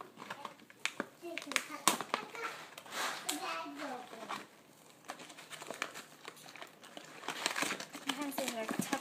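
Plastic packaging crinkles and crackles in scattered bursts while a child and an adult talk quietly nearby.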